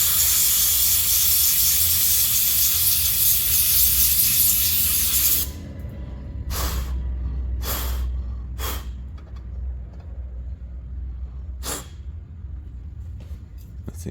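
Parts cleaner sprays in a loud, steady hiss onto a removed exhaust part from a 1997 Toyota Corolla, then stops abruptly, followed by a few short bursts and faint handling noises.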